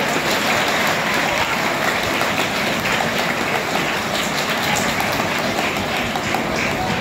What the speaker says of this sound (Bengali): মহারাজদের জন্য একটা জোরে হাততালি হয়ে যাক।